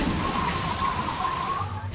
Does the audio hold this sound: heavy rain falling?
yes